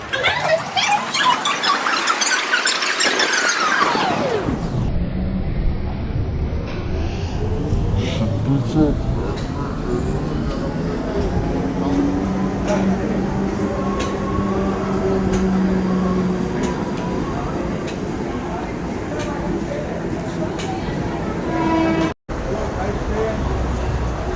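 A suburban local train pulls in at platform 1 of Nalasopara station, Mumbai: a sustained loud rumble with a high squeal of wheels and brakes dominating the opening seconds, then steady close-up rolling noise under crowd and traffic ambience.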